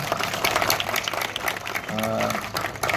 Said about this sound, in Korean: 그래서 우리 경기도 박수 한번 주실래요?